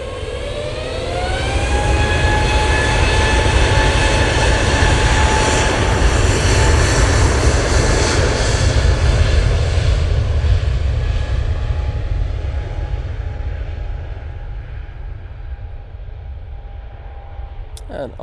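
Jet engines roar as an airliner takes off from Manchester Airport for Dusseldorf, whining tones sweeping upward before the sound slowly fades into the distance.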